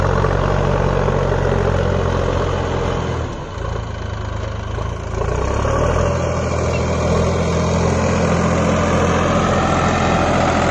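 A Sonalika DI 50 tractor engine runs steadily while driving a Shaktiman rotavator, with a loud, continuous low rumble and a brief dip in the middle, with no voices.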